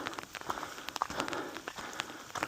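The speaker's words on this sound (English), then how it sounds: "Starting to rain a little bit more here" Light rain patters steadily on a Colorado mountain trail near Maroon Bells and Crater Lake, with scattered brighter drop hits over a soft, continuous hiss.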